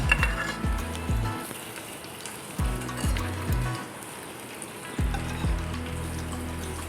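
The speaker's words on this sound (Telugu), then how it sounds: "చికెన్ కొంచెం బాగా ఫ్రై చేయాలి" Chicken for gongura chicken fries in a clay pot with a constant sizzle, broken by repeated scraping stirs and clinks of a utensil against the pot, close up, with no talking.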